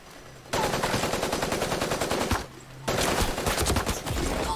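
Rapid bursts of automatic gunfire from the battle royale mech game Super Mecha Champions on Android, two loud sustained volleys separated by a brief lull.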